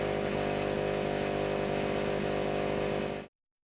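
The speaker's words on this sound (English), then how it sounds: "the engine can now run by itself without the need for human assistance" A German military generator engine runs unattended with a loud, steady, dense drone before it cuts off abruptly and leaves silence.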